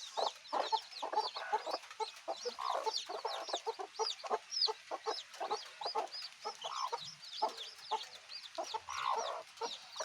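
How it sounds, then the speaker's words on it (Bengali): Deshi and Sonali hens on a small poultry farm in Udaipur, Tripura, clucking nearly without pause, with overlapping short calls close by and steady murmuring chatter, no human voices. "এখানে আমার 5টা মুরগি আছে"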